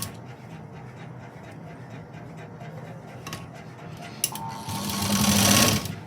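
A sewing machine stitches a sleeve onto a garment, starting with soft, slow ticking and then breaking into a loud, fast, close whirring run near the end.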